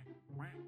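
A single nasal duck quack sounds in the Roblox video game Strongman Simulator, short and clear against a quiet background.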